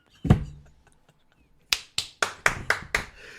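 Loud hand claps right beside the listener amid NBA Finals celebrations, a burst of six sharp, evenly spaced claps after a thud and a brief pause, close and dry.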